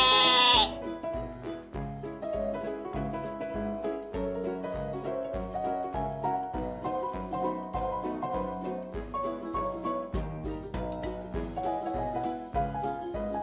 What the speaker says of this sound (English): How does the sheep say hi?